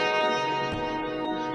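Sampled saxophone phrase played dry without saturation, a sustained reedy tone with a slight inflection midway, fairly quiet and steady with no talk.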